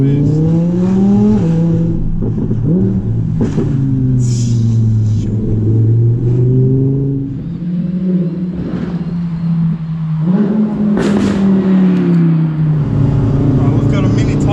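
An Audi R8 V10 RWS with a Quicksilver exhaust in dynamic mode roars loud and close, revving up and down with sharp blips and crackles between gear changes.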